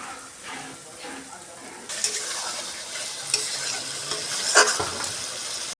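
Tangy yogurt goes into a sizzling tomato masala in a pan while making chicken keema with young jackfruit, with frying hiss throughout and steady stirring and spoon scrapes that grow louder after a brief quieter start.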